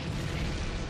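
A single dull, booming cannon blast from the video game Monster Hunter 3 Ultimate fills the whole moment, a short heavy burst with no voices.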